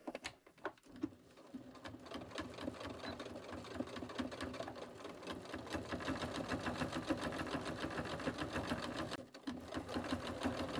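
A home sewing machine stitches through thick layers of a fabric dish mat being turned into a basket, its motor whirring in a steady rapid run with a brief pause near the end.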